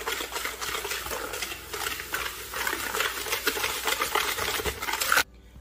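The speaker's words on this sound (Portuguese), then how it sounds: "Aí aqui eu vou dar uma leve misturada." Egg, yeast, oil and sugar being stirred together in a bowl for bread dough, a continuous wet swishing and scraping that stays steady and close before stopping abruptly.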